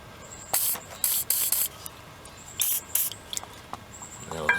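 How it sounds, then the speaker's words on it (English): Several quick hissing sprays from a WD-40 aerosol can in short bursts onto a rear brake caliper of a 2006 Ford F350 dually, with faint clicks and handling noises between them. "spray a little bit on here, because it's going to have to come off."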